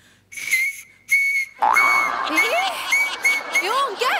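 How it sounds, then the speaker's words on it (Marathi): Shrill, piercing whistle blasts blown on a pen cap, two short ones then a longer warbling run, with a voice joining partway through. "हे पेनाचं टोपण का ठेवलंयस? ते हे शिट्टी वाजवता येते ना अशी"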